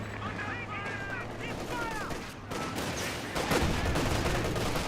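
Artillery barrage and gunfire in the Company of Heroes 2 video game, a dense mix of distant booms and rattling shots that builds toward the end, with a voice talking over it.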